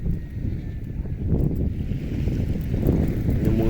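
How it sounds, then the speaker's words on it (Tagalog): Strong wind at sea buffets a small fishing boat, a constant low roaring rush with microphone buffeting that builds slightly over a few seconds, with no voices. "Ayan na, nagsisimula na naman lumakas yung hangin."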